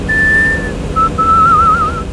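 A person whistles with the lips: one sustained high note, a short pause, then a wavering, slightly warbling phrase, close and clear over faint background noise.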